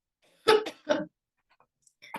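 Two sharp, close coughs from a speaker during a lecture on legal recognition of animal sentience in Quebec, each a short burst, followed by quiet and a faint breath.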